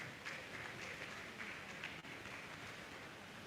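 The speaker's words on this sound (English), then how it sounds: "Don't stop clapping until she gets here." Audience in a conference hall at a tourism forum keeps up steady applause, a dense, even patter of many hands clapping at a moderate distance, with a slight dip about two seconds in.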